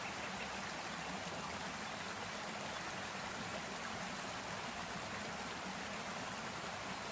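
Running water in the fishing video game Fishing Planet, a faint, steady rushing hiss like a flowing stream that stays even and unbroken throughout.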